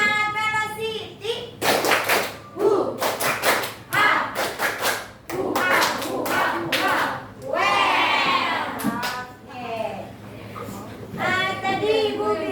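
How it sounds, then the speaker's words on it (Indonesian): A school class doing a rhythmic 'tepuk semangat' group clap, bursts of patterned clapping alternating with loud children's chanting and shouts, close and lively. "Lagi ya, tepuk semangat velocity"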